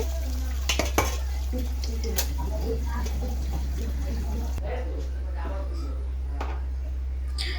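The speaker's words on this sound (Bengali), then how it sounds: "এখন একটা বাটিতে নিয়ে নিচ্ছি একটা একটা করে নামিয়ে নিচ্ছি" Fried lentil fritters are lifted one by one from a pan into a bowl, with light scraping and clinking of a utensil against metal over a steady low hum, while a person talks throughout.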